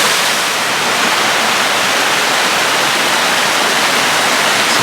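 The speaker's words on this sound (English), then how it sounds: "be grateful for this peaceful little flow of water" Small stream of water flowing past a log jam of fallen trees at Lake Padden, a steady, dense broadband rush that holds constant and close throughout, with no voices.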